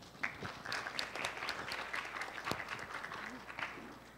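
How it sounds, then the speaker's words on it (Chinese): A lecture audience at an AI carnival short-talk event applauds to welcome a professor, with soft, fairly distant, continuous clapping from many hands at a low level throughout. "请掌声欢迎陈教授。"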